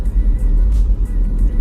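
A BMW-built engine in a Mini Cooper runs with a steady, loud low rumble close by, holding an even idle-like drone throughout with no clear revving.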